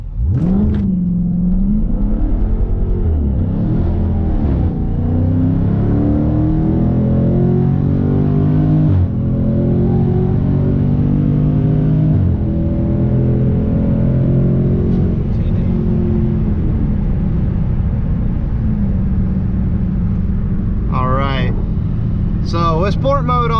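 A Dodge Scat Pack in sport mode launches from a stop and pulls hard, with a loud, close engine roar that climbs through several gear shifts. Tires scrub briefly near the end.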